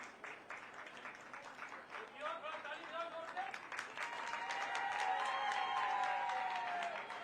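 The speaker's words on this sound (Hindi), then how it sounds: "तालियां, तालियां।" Faint crowd applause at a state-level International Yoga Day ceremony, a patter of clapping that builds and continues while a voice speaks over it.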